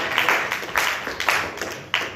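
A comedy club audience claps and applauds for a stand-up comic, a dense, steady wash of hand claps with a few sharper accents, close and fairly loud throughout.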